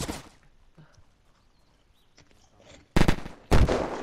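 Gunfire from a grizzly weapon in the video game Unturned during a PvP raid: a couple of loud, sharp shots near the end follow a quieter stretch, with faint game sounds before them.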